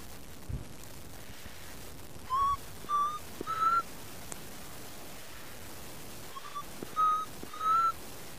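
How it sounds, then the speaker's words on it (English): Two bursts of an African black cuckoo's clear whistled call, three rising notes each, heard at a distance at sunset on safari over a quiet hiss of ambient background. "can hear an African black cuckoo whistling in the background."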